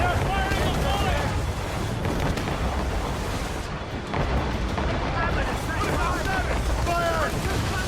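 Naval cannon fire from ships in Assassin's Creed Rogue, heard as repeated deep booms under wind, sea noise and shouted orders.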